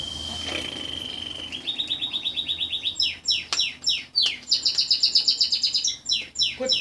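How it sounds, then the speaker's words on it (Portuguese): A small bird chirps in quick repeated bursts, first as a thin steady whistle and then as rapid bright tweets rising and falling, close and loud, with no voices. "Passarinho? Não, passarinho?"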